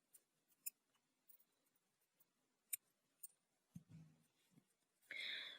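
Scissors snip through beading thread at a bracelet-making workbench: a few faint, sharp clicks, then one near, brief cut close to the end of an otherwise quiet stretch.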